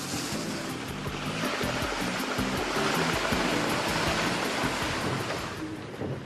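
Steady rushing river water churns loudly around a convoy of Land Rover Discovery vehicles crossing one at a time in wheel tracks, with low engine rumble underneath, continuous and close throughout.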